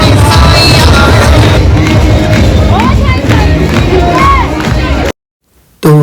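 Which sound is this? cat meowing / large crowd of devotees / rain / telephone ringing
large crowd of devotees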